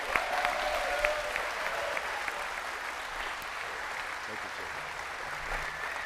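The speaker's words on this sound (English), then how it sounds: "let's give a big Boys State round of applause to welcome our Senator Joe Griffo" A large hall audience of Boys State citizens gives a sustained round of applause welcoming a state senator, a dense, steady wash of many hands clapping at moderate distance for several seconds.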